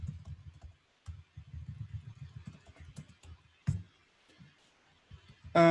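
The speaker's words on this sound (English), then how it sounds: "If I try typing anything" Bursts of computer keyboard typing while filling in a web form, clattering keystrokes in uneven clusters with short pauses between them, fairly close, ending in a sharper noise at the very end.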